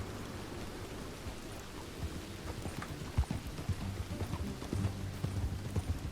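Horse hooves clip-clopping at a steady riding pace in the video game Red Dead Redemption 2, moderately loud over a constant rain-like hiss of ambient game sound, with no voices.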